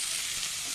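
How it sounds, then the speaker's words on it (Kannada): Onion and chopped curry leaves frying in a pan, a steady bright sizzle holding even and close throughout with no talk over it. "ಸ್ವಲ್ಪ ಫ್ರೈ ಮಾಡೋಣ. ಈರುಳ್ಳಿ ಹಾಕೋಣ."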